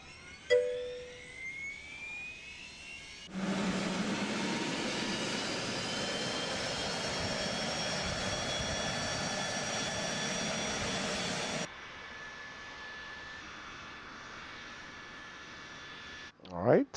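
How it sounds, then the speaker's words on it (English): Engine number 2 of a Phenom 100 light business jet spooling up at start, a broad roaring whoosh with rising turbine whine that holds steady for several seconds near the microphone, then drops to a quieter idle hum. "let's start engine number 2"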